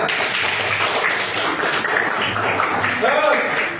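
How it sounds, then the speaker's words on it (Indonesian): Classroom applause for a student group, a short dense patter of many hands clapping together in a school room, mixed with a voice speaking. "Tepuk tangan untuk kelompok 5."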